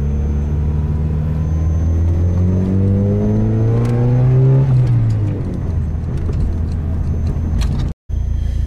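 Manual car engine revving up steadily as the clutch engages and it pulls away from a stop, pitch rising then dropping as it settles, loud and close.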